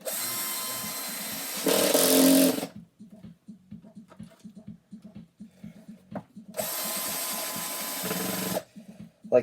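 A power drill on its lowest setting drives screws into a subwoofer box: two loud, sustained whirring bursts a few seconds apart, with quiet clicking and handling noises in the pause between them.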